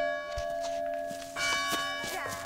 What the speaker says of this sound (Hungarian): imára hívja ez a harangszó a falu népét